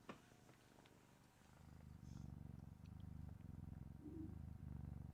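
A cat held right up against a microphone purrs in a low, steady rumble that swells after the first second and continues close and quiet, with a few small handling clicks.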